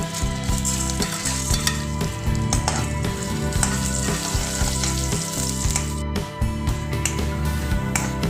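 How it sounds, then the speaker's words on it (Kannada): Dried red chillies fry in oil in a pan, giving a loud, constant sizzle close up, with rhythmic scraping and clicking from stirring throughout. "ಹಾಗೂ ಒಣಮೆಣಸನ್ನು ಹಾಕೋತಾ ಇದ್ದೀನಿ"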